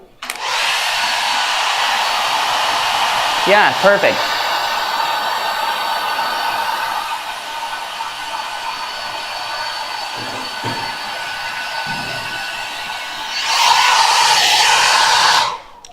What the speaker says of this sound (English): I'm gonna turn this hairdryer back on to the highest mode